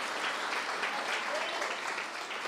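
Church congregation applauding, a dense, steady wash of many hands clapping at once, heard from a distance and sustained evenly throughout.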